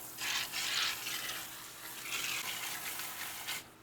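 Water runs steadily on a cutting machine set up to cut underwater, a continuous broadband hiss close by that swells and eases over a few seconds with no talk over it.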